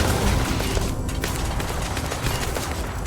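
Sustained rapid gunfire from a turret in the sci-fi video game Starfield, a dense continuous barrage of shots close up and loud, with battle noise filling the whole stretch.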